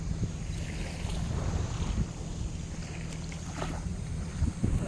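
A boat passing on a creek: a low, steady engine drone heard from a distance under heavy wind rumble and lapping water, continuous throughout.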